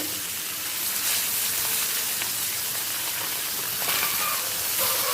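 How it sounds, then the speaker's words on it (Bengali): Parshe fish fry in mustard oil, producing a loud, constant hissing sizzle like steady rain that runs unbroken throughout. "এরপর দিয়ে দিচ্ছি মাছগুলোকে তেলের মধ্যে"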